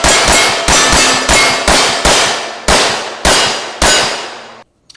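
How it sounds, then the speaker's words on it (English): Bullets striking a steel shooting target ring out in eight loud metallic clangs at an uneven pace, each ringing tone decaying before the next hit. "especially when I'm shooting steel"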